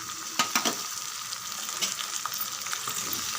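Chopped tomato sautés in a pan with a steady bright sizzle, and a few soft stirring knocks land near the start.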